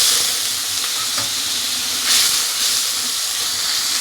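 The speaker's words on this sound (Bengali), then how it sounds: "মশলাটাকে আমি ভালো করে কষিয়ে নেব।" Spice paste of ginger paste and turmeric sizzling steadily as it is sautéed in a pan, a loud, continuous hiss with small swells and no voices.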